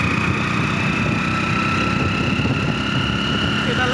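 A Hero Splendor motorbike engine runs at a steady, close drone, with the bike carrying three riders and a weak front brake. The hum stays constant and loud without pauses.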